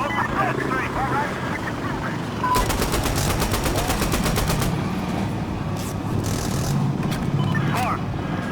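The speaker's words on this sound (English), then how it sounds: "Opening fire." Automatic gunfire in the video game Insurgency Sandstorm, a rapid burst of sharp repeated shots lasting about two seconds, followed by a few scattered shots amid background battle noise, with voices talking.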